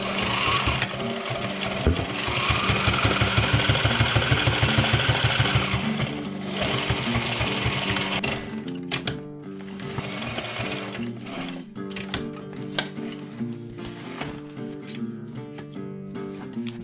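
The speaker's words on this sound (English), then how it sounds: "I'm going to stitch this down first in that corner" A sewing machine stitches leather for a motorcycle seat on a 2019 250xc hard enduro build: a fast, steady mechanical chatter of the needle that runs continuously, slows, and stops, then resumes in shorter bursts, close and loud, without speech.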